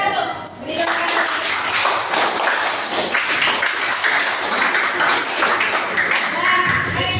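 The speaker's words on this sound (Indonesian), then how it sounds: "Tepuk tangan dulu. Beri tepuk tangan." A classroom of students clapping for a student group after its presentation, dense and loud applause that starts abruptly and carries on steadily throughout, with a few thuds and taps mixed in.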